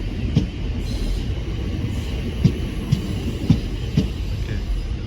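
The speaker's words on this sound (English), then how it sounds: "A not in service Southern train passing by here." A not-in-service Southern passenger train passes close by at Denmark Hill or Peckham Rye in London, giving a steady loud rumble of wheels with a few sharp clacks from the rail joints.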